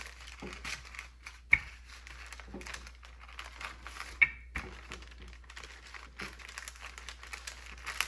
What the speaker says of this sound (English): I'm gonna roll it on a parchment paper so to make sure it doesn't stick.